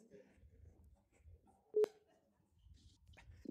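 A telephone call beeps with a single short tone, standing out briefly over a quiet room with faint murmuring voices.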